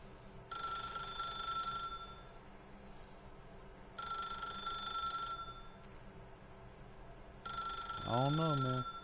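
A telephone rings in The Stanley Parable video game, three long bursts of bright, steady trilling evenly spaced over a low ambient hum, ending with a brief rising-and-falling tonal swoop.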